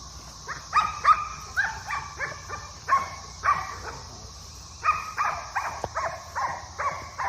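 A dog barks nearby in repeated quick bursts, some single and some in rapid runs, over a faint steady background hum.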